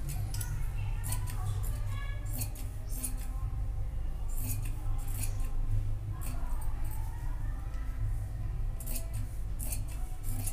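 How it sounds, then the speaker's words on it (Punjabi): Scissors snip through cloth to cut fabric strips for a sleeve, a run of quick, crisp cuts in irregular bursts, close and fairly faint over a low background hum. "ਅਤੇ ਇਹਦੀਆਂ ਵੀ ਅਸੀਂ 2 ਹੀ ਪੱਟੀਆਂ ਕੱਟ ਕਰ ਲਵਾਂਗੇ।"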